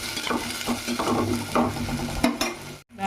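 Onion, tomato and potato pieces are stirred in a pan in quick, rhythmic scraping strokes over a constant frying sizzle, loud and close, ending in a brief pause.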